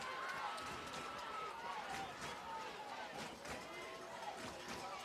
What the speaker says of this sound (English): the Alcoa crowd getting rowdy up here. You can hear them stomping and hollering for some defense